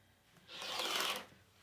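Quilt backing fabric is trimmed on a cutting mat in one short, soft rasping cut that swells and fades within about a second, otherwise quiet.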